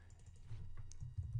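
Typing on a computer keyboard, with a steady run of soft, close key taps and a few louder clicks over about a second and a half, and no talk.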